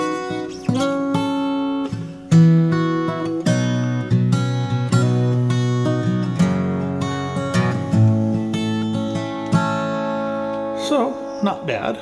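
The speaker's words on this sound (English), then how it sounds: "This is my Epiphone Cortez FT" A 1965 Epiphone Cortez FT-45 acoustic guitar plays a fingerpicked passage up close, with bright plucked notes and ringing chords rolling along steadily for several seconds, without voice.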